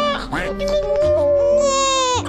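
An infant girl cries loudly and close up, her wail rising and wavering in long sustained sobs. Some adult voices are faintly present underneath.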